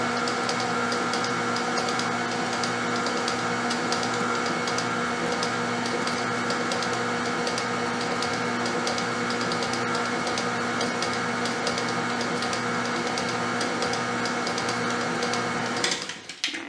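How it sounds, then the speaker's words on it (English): An electric mixer whirs steadily through banana bread muffin batter at a raised speed, a loud, even mechanical hum that holds for about sixteen seconds before cutting off abruptly at the end. "it's mixing together. I'm going to speed it up a little bit."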